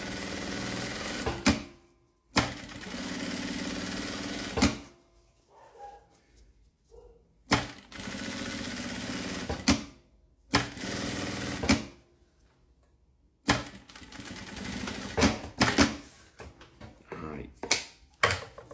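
A sewing machine stitches a zipper onto a notebook case in several loud bursts of a few seconds each, separated by short pauses, with quieter handling sounds in between.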